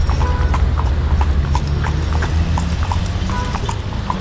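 Horse-drawn carriage hooves clip-clop steadily on pavement in Luxor, Egypt, a continuous close rhythm over low street and traffic rumble.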